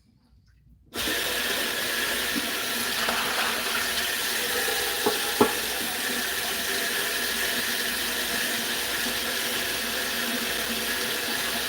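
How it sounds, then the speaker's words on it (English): Tap water runs steadily into a pan for mac and Cheetos, a constant splashing rush that begins abruptly after a second of silence and continues unbroken, with a couple of faint clinks partway through. "we fill up a pan with water"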